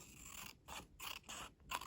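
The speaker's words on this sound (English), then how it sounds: "Might just trim this edge ever so slightly with scissors." Scissors snip several times along the edge of a printed journal paper page, a few close, quiet cuts with short gaps between, no talking.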